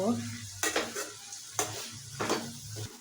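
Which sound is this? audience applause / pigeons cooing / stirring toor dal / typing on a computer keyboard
stirring toor dal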